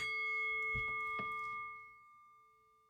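A single bell rings out with a clear, sustained tone that lingers and slowly fades away, with a couple of soft knocks near the start.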